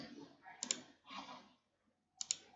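Two pairs of crisp mouse clicks, separated by a pause, over a quiet voice speaking softly in the background.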